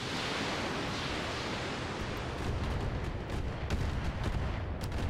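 Mech weapons firing in the Roguetech video game: a dense, roaring barrage of rumbling shots and blasts, loud and continuous, with sharper impacts toward the end and no voices.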